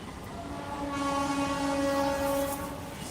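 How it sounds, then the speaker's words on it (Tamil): A train rumbles past nearby while its horn sounds a long, steady blare over the rolling noise. "பாருங்கள் ட்ரெயின் இருக்கு பாருங்கள்"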